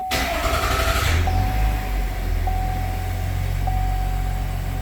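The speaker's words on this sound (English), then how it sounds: "We're going to go ahead and start the truck up." A pickup truck with an engine auto stop/start system cranks and fires up, settling into a loud, steady idle. The rumble stays close and continuous, and a faint repeating high beep chimes above it.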